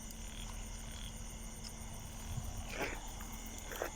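Frog croaks from a night-time field during homemade frog-hook fishing, a few short rasping calls standing out over steady insect and cricket chirring, fairly faint and distant, with no talk.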